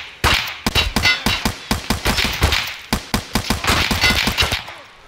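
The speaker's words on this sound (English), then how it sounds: "Oh, someone's shooting at me." Rapid bursts of automatic gunfire in the video game Escape from Tarkov, set on a mall map, crack out in dense repeated volleys, loud and close, filling the stretch with no talk.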